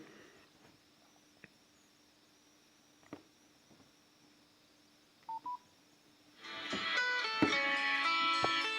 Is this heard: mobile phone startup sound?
yes